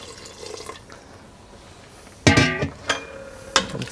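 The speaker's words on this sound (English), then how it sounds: "Add cold water over." Cold water is poured over mushrooms for stock, starting as a quiet background and then breaking into several close, loud splashing pours in short bursts.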